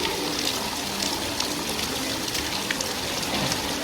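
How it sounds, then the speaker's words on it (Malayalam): Hot spring water flowing continuously at a mountain spring, a steady close wash of splashing and trickling with no talk over it. "ഇത് 24 മണിക്കൂർ ഈ വെള്ളം ഇങ്ങനെ ഫ്ലോ ചെയ്തുകൊണ്ടിരിക്കും"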